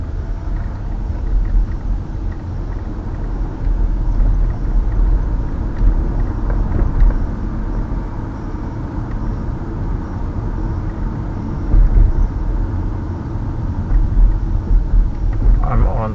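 A car drives along 33rd Avenue in Vancouver toward Knight Street, its steady interior road rumble and engine drone continuing throughout, with occasional louder swells and someone talking over it.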